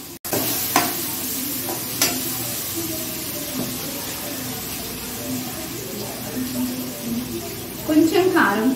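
Onions frying on high flame with chili powder for a Telangana-style prawn masala fry give a steady, loud sizzle, broken by scraping stirs of the pan, while someone talks over the cooking.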